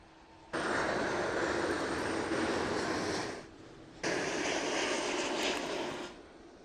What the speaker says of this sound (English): next up, arrival. We got an A330-200.